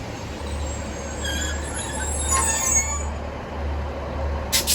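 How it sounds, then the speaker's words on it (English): Two coupled Class 156 diesel multiple units pull away from a platform at Widnes, a steady low engine rumble with rail and wheel noise building, some faint high squeal and a brief hiss near the end, heard alone without voices. "Train now departing is a double 156 going to Liverpool Lime Street."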